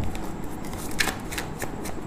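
Tarot cards being shuffled: a brief, close riffle of flicking cards with a few sharper snaps, heard alone.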